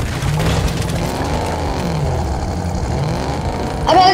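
A fast car races along in the video game Fortnite, its engine a loud, steady low rumble throughout, with a brief bright burst at the very end.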